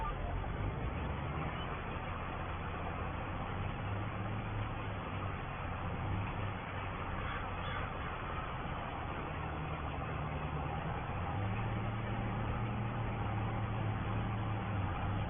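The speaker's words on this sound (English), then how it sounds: "It's good having this tractor as well, with having the CVT gearbox on." Tractor engine with a CVT gearbox in a farming video game, a steady low drone running continuously at moderate level throughout, with no talking.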